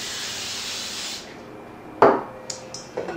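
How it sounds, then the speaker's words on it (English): A close cooking spray can hisses steadily for about a second onto a square baking dish, then stops, followed by a few sharp knocks and clatters of handling. "we'll spray that baking dish with cooking spray"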